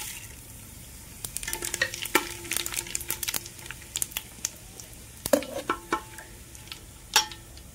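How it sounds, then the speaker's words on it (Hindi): Cumin seeds and chillies sizzle in hot ghee for khichdi, a soft constant crackle broken by clattering spoon-against-pan knocks and scrapes as the spices are stirred. "अब इसमें जीरा मिर्ची डाल देते हैं।"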